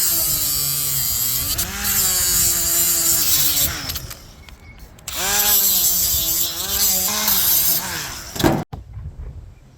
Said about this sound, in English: I need to grind that down, try to get that little stubby piece out so it doesn't rip up our new tarp.